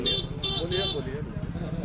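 Vehicle horn at a roadside during election coverage in Tamkuhi, three short loud toots in a quick regular rhythm while a person talks.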